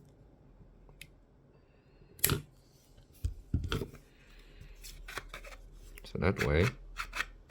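Cutters snip a small nub off a 3D-printed part, producing a few sharp plastic clicks and snaps among softer handling rustles, close and quiet, with brief speech partway through.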